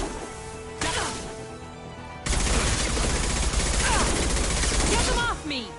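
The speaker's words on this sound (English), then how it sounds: "Firing a high impact shot." Heavy gunfire in Mass Effect 2 from a high impact shot: a sharp onset, then a sustained, loud barrage of rapid automatic shots and impacts that roars continuously for several seconds before cutting off.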